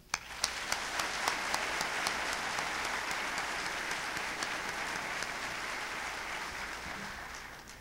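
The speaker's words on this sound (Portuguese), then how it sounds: "solicitamos que saúde com palmas, os municípios que se fazem presentes" An audience at the opening of an international seminar on sports and culture spaces applauds the attending municipalities with sustained, even clapping that carries steadily from start to finish.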